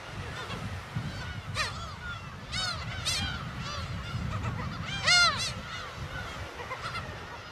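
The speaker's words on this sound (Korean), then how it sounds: "울음소리가 마치 고양이와 닮았다 해서 괭이갈매기란 이름이 붙여졌죠." Black-tailed gulls on Dokdo give repeated cat-like mewing, nasal calls over a steady low rumble of wind or surf, several birds calling at once, loudest near the end.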